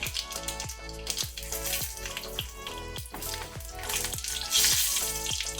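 Dried Byadgi chilli pieces frying in hot oil over a low flame after mustard seeds, a steady close sizzle with soft crackles and occasional stirring scrapes, no voices.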